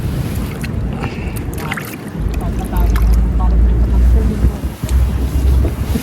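Wind buffets the microphone on a boat at sea, a loud, gusty rumble with waves washing around it, while a person talks.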